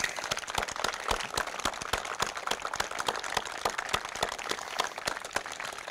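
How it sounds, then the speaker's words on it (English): Scattered, fairly sparse clapping from a small outdoor crowd at a Veterans Day ceremony in Moreno Valley, individual sharp claps standing out in an uneven, steady patter, moderately distant. "Let's give us some applause."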